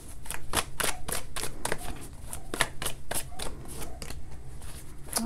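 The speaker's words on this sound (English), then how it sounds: "I shuffled." Tarot cards shuffled by hand in a quick series of crisp riffling bursts, repeating steadily and close up with no talking.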